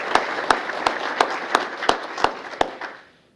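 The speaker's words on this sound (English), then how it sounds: "So if we can have a round of applause for those individuals." An audience at a mayor's employee recognition awards ceremony claps together, loud even applause with regular strong accents that fades out at the end, no talking over it.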